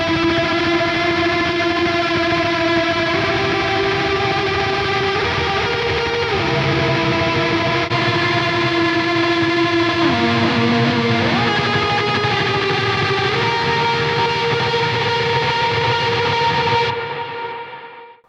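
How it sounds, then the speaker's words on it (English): Sustained electric guitar notes, played in a shoegaze style through a Quad Cortex with heavy reverb and delay, wash together in a thick, echoing haze, chords shifting slowly before the sound fades out at the end. "Tons of reverb, tons of delay,"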